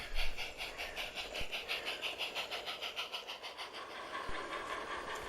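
A small model sand train runs with a rhythmic, regular clatter and faint whine, with a couple of sharp clicks along the way, on a garden light railway.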